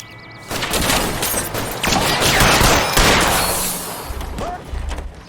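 Gunfire in the L.A. Noire video game during a shootout, a dense fusillade of overlapping shots and booming reports lasting several seconds, loud and close, with brief voices in the mix.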